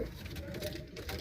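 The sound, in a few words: yellow pigeon hen cooing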